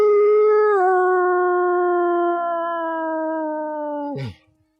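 A person's voice imitates a wolf howl: one long, loud, sustained tonal howl that wavers briefly near the start, then slowly falls and cuts off sharply with a short breathy end.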